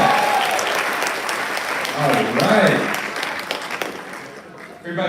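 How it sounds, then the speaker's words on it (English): Audience at a Kwanzaa show applauding after a candle lighting, a loud, dense round of clapping with cheering voices and talk over it, fading slightly toward the end. "When the candle's lit, I want y'all to everybody give them a strong round of applause."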